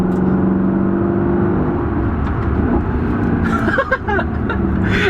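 Maserati GT engine under throttle on a mountain drive, a loud droning hum with harmonic whine that holds steady, then shifts as revs change near the end.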